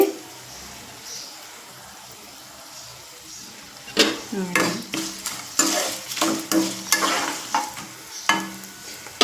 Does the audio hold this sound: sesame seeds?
yes